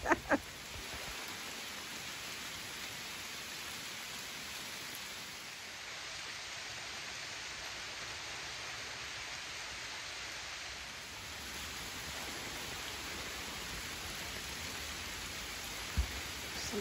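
Steady rain falling around a yurt porch in the White Mountains, a continuous even hiss of drops on surfaces, with no talk over it.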